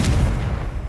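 The Confringo blasting spell cast in Hogwarts Legacy lands as a single heavy, booming blast with a sharp crack at the start, then a deep rumble that slowly fades over about a second.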